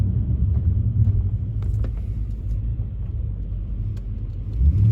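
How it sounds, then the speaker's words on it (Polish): Audi S5 with a 4.2 V8 running on LPG cruises through town, giving a steady low engine rumble and road drone at moderate level, swelling slightly at the end. "jedziemy sobie Audi S5 po mieście, na gazie oczywiście"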